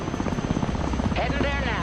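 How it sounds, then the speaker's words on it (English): A cargo helicopter in the war game Broken Arrow, its rotor thumping in a steady rapid beat under a radio-style voice line, loud and close for a brief moment. "Cargo helicopter approaching the DZ"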